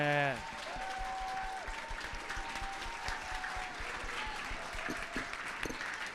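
An audience applauds at a live Bell Cause charity event, steady crowded clapping with sharp individual claps, while a voice speaks briefly at the start and a sustained tone drifts beneath.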